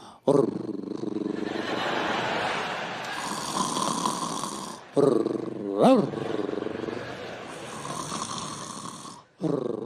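A stand-up comedian vocally imitates a small dog's low, rumbling growl on stage, sustained for several seconds with a brief pause and sharp pitch swoop midway, loud and close with a theatrical, snore-like rasp.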